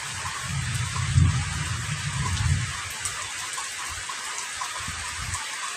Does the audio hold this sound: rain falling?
yes